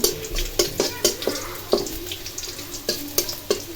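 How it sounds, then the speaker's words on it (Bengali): Garlic tempering for a leafy greens curry, crackling and spitting in hot oil with a string of sharp, irregular pops over a gentle frying hiss, close and without speech. "রসুনের বাগার দিব এখন এই শাকটা বাগার দিব"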